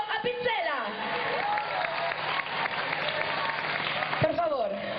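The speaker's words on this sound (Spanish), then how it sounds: "Un fortísimo aplauso para Enzo Apicella." A concert audience in Sueca, Valencia applauds Enzo Apicella, a steady wash of clapping from the crowd with voices and cheers ringing over it, a louder burst swelling near the end.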